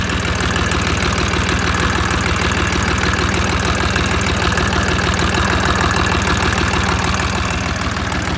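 A Dongfeng-254 tractor engine pulls a plough through black-soil farmland at medium throttle, giving a loud, steady, close diesel chug with a knocking rhythm and constant vibration throughout, with no voices.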